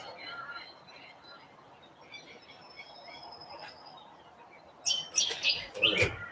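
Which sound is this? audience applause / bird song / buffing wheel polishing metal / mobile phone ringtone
bird song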